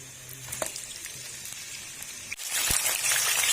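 Meat sizzling in hot oil in a pot for aloo methi, a steady frying hiss that swells louder after the meat drops in partway through, with no talking.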